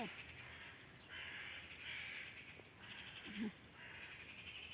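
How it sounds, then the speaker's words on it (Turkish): Crows in the countryside near a garden where tomato seedlings are being planted caw in repeated harsh bursts, moderately distant and fairly faint, without talk. "Kargalar nasıl ötüşüyor bakalım Elsa."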